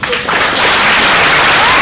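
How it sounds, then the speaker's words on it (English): A classroom audience claps after a student team's presentation: dense, loud, continuous applause right up close, filling the whole moment without a break. "Let's give up a little round of applause"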